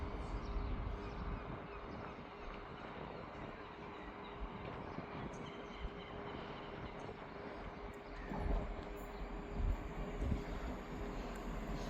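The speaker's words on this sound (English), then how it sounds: "Arriving in now is the 13:29 Scotrail service from Aberdeen to Edinburgh Waverley." A ScotRail passenger train, the 13:29 service from Aberdeen to Edinburgh Waverley, pulls into Montrose station with a steady low rumble and hum that swells slightly near the end, heard alone.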